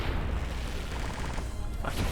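Cannon attack from a Symphony of War: The Nephilim Saga battle, a dense, sustained booming crash that fills the whole clip, loud and close, with a fresh burst near the end and no voices.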